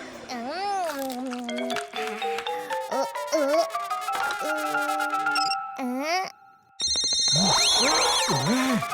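A cartoon telephone rings in a bright repeating electronic tone near the end, after a stretch of animated child and adult character voices talking over music.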